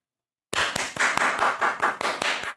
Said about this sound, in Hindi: तालियां, तालियां भाई